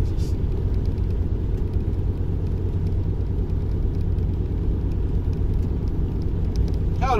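Vehicles overtaking a truck loaded to about 24 tonnes on a French road, heard as a loud steady engine and road rumble from the cab, with no clear pass-by peaks.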